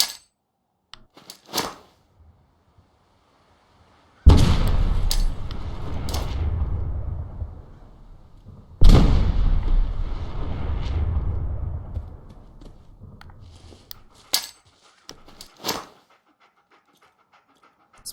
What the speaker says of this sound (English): Let's toss a grenade up in here.